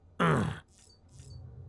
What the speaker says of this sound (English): You're very grunty.